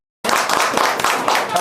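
A room of people applauding commission members, with dense, steady hand clapping that starts abruptly after a short silence and carries on evenly, close and fairly loud.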